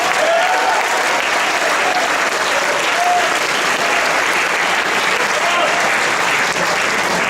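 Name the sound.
audience applauding stage manager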